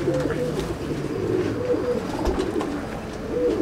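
Chennai breed pigeons cooing in a loft, overlapping low throaty coos rolling in a steady murmur with light rustling, close and continuous, no talk.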